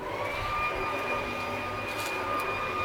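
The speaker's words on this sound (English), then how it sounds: "Some guy next door vacuuming or something." A vacuum cleaner runs steadily next door, a faint, even whine with a constant drone beneath it, distant and unbroken with no talk.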